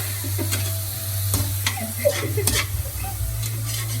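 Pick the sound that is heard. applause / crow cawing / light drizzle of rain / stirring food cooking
stirring food cooking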